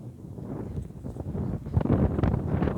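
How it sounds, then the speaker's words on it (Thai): Steady wind buffeting a microphone, a low rumbling whoosh that grows stronger in the second half, with no voices. "อุ้ยเสียงลม"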